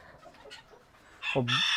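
A few faint clucks and rustles from decorative ornamental chickens, then a loud nearby rooster crows, its call rising and holding to the end.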